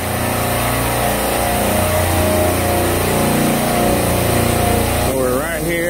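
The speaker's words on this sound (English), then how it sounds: "going into the motor room, it's really loud" Loud, steady drone of refrigeration motors running in the motor room of a beer cooler, a dense mechanical hum filling the space without letup, then shifting near the end.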